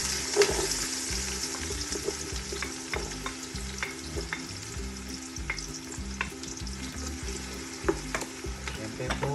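Onions frying in hot oil for chicken afritada, a steady dense sizzle with a rhythmic scrape of stirring throughout, close and fairly loud with no voices.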